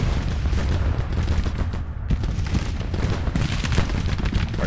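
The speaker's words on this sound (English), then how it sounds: "Artillery blasting them." Artillery in a GTCW video game battle fires in a dense barrage of heavy booms and crackling blasts, close and loud, with barely a pause across the stretch.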